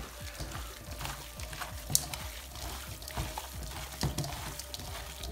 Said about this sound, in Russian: буду выжимать сок.